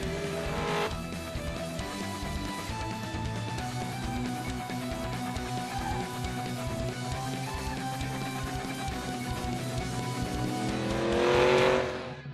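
Competition cars at the Drive OPTIMA Charlotte 2015 Wilwood Speed Stop event corner at full throttle, a sustained roar of revving engines with tire squeal that swells near the end, steady and moderately loud.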